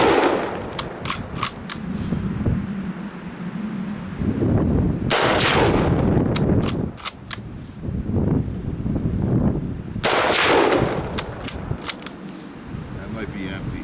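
A Mosin Nagant M91/30 rifle fires brass-cased 7.62x54R rounds at soda bottles outdoors, each loud, sharp report ringing out singly with pauses between, amid wind noise and someone talking between shots.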